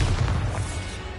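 A Bombarda explosion spell cast in a fantasy video game, a dense low booming blast with rumbling body that stays loud through the short burst.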